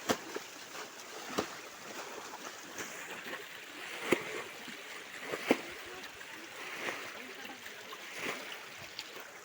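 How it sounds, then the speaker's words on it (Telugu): Water bailed out by hand, scooped and tossed in repeated splashes at an uneven rhythm, with watery trickling and sloshing underneath throughout. "చూడండి ఫ్రెండ్స్, ఎంత కష్టపడి తోడుతున్నారో వాటర్ అయితే."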